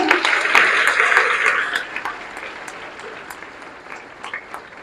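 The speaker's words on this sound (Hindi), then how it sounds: "तालियां बजाएं।" An audience of school students claps at a career counselling session led by the district commissioner in Karnal. The applause is loud at first with a few sharp individual claps, then fades and thins out toward the end.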